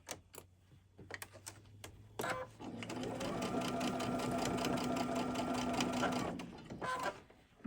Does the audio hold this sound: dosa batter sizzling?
no